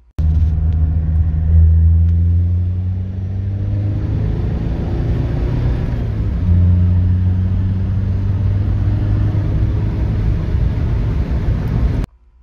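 An old all-wheel-drive VW rally car engine revs hard with turbo overboost, loud and close, its pitch sweeping up and down across several rising and falling revs before cutting off abruptly at the end.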